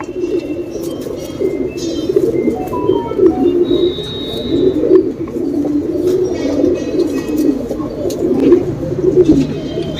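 A male Yedunur sabbza pigeon coos in low, continuous rolling tones, with other birds chirping faintly in the background.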